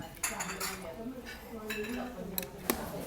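A spoon mixing curry into rice on a plate at an Indian meal in Bangkok's Phahurat Little India, with soft scrapes and light metallic clinks over a quiet background voice.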